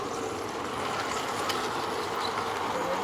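A Hogwarts Express model train runs along its track, giving a faint, steady rolling rumble with soft rhythmic clicking from the wheels.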